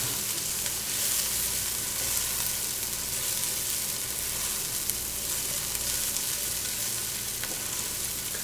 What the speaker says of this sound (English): if they're sizzling this much, just lower the heat down